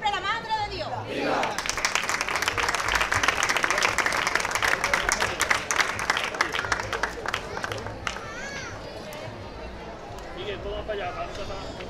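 Crowd applause at a religious offering to the Virgen del Mar in Isla Cristina, Spain, a dense burst of clapping mixed with crowd chatter and voices that tapers off toward the end.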